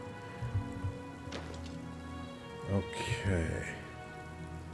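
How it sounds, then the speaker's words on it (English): Rain falls steadily in The Elder Scrolls IV: Oblivion Remastered, a soft continuous patter beneath sustained music tones, while a person speaks briefly over it. "It's starting to rain."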